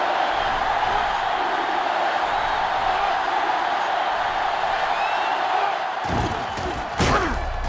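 Stadium crowd roaring in a 2005 college football video game, Ohio State against Florida, a steady loud wash of noise that breaks into a few sharp thuds near the end.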